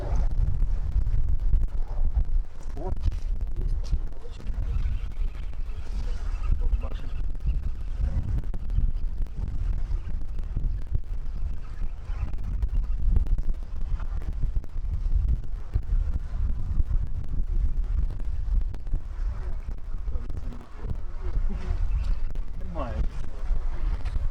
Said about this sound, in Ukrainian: вітер реально такий